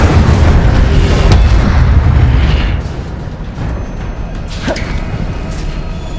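Incendio fire spell in Hogwarts Legacy erupts as a loud, roaring blast that holds for nearly three seconds, then drops to a lower crackling rumble with sharp pops.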